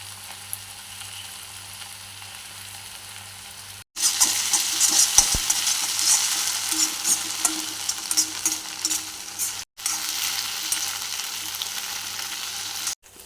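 Soy sauce and tomato sauce fry for soya manchurian, a quiet hum jumping to a loud, bright crackling sizzle that carries on with stirring, briefly cut off and then resumed.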